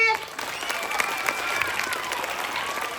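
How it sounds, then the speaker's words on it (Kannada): Schoolchildren at a government school Children's Day program clap together, a dense continuous patter of many small hands that holds steady, with some crowd murmur beneath. "ಮಕ್ಕಳು ಎಲ್ಲ ಒಂದ್ಸಲ ಚಪ್ಪಾಳೆ ಹೊಡಿರಿ"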